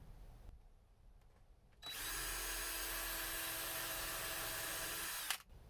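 A driver screws ceiling panels into a Ford E350 van conversion, one loud sustained whir lasting about three and a half seconds after a quiet lead-in, then cutting off abruptly.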